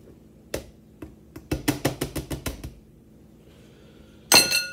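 A hand sifter works flour, baking powder and salt, giving a quick series of about a dozen sharp metallic clicks and rattles in a rhythmic burst, followed by a louder clatter near the end.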